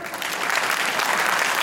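Audience applause at a motivational speech event, dense steady clapping from a crowd filling the whole moment with no voices on top.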